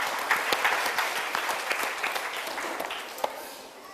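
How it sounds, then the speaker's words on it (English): Steady round of audience applause at a youth Toastmasters club meeting, moderately quiet and slightly distant, with scattered sharper claps over the continuous patter. "One more round of applause for a good evaluation."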